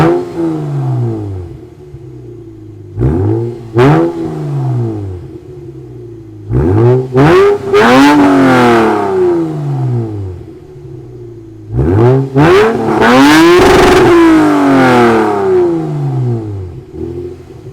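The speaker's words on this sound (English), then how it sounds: "the car sounds a little bit raspier, but it's so much better" Lexus IS engine fitted with PPE headers, revving hard in several bursts: loud, raspy rising-and-falling sweeps with short gaps between blips and a longer sustained rev near the end, no talking.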